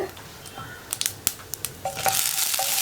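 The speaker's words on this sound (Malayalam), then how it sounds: "ഇപ്പോൾ നമ്മുടെ കടുക് പൊട്ടി കഴിഞ്ഞുകൊണ്ടിരിക്കുന്നുണ്ട്" Sharp scattered pops and crackles of mustard seeds spluttering in hot oil, a handful of quick spits, growing into a denser sizzle toward the end as urad dal is added.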